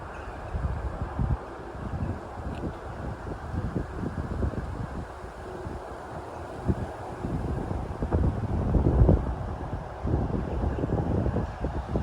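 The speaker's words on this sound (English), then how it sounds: "here comes the wind again" Wind gusting outdoors at a historic garden site in Lewes, buffeting the microphone with a steady roar that swells and surges, loud and close, with no talking.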